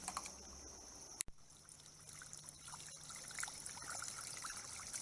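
Water trickles steadily from an unscrewed ram pump check valve, a soft continuous dribble with a sharp knock near the start, then a constant faint flow close by with no talking.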